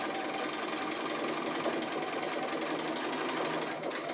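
A sewing machine stitches an appliqué, running continuously at a steady fast whir, close and loud throughout with no pauses or voices.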